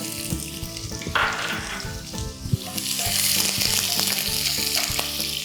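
Onions hit a hot pan with olive oil, a loud crackling sizzle building and holding steady, with scattered clinks and stirring scrapes of a utensil against the pan.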